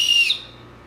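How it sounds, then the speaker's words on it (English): A safety whistle clipped to a backpack chest strap gives one short, shrill, close blast that fades quickly, with nothing else heard. "there's a whistle on it for safety reasons"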